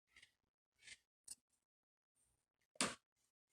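Scissors trimming the top off a paper tea bag, several crisp separate snips with quiet gaps between them, close and clear, the last cut loudest, with no talking.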